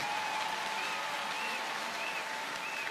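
A congregation at a Sunday church service breaks into continuous applause and acclamation, a dense, steady wash of clapping filling the hall with no pauses.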